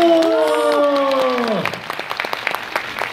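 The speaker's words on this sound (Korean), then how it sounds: "박수!" Audience applause at a school learning showcase after children's dance performance, with a strong music tone fading out early, then scattered clapping continuing and thinning toward the end.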